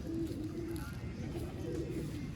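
Pigeons cooing at a breeder's loft, soft repeated low coos under steady background noise, faint and close, with some voice present.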